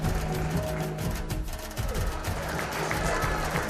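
Audience applause at a school's annual prize-giving ceremony honouring a student's strong board exam results, a loud, dense burst of clapping from a large crowd that carries on throughout.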